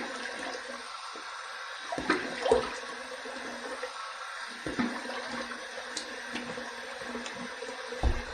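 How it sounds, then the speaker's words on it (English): Cold water running from a bathroom tap for a rinse after a shave, a steady quiet stream broken by a few sharper splashes and knocks. "Okay, cold water rinse to close the pores."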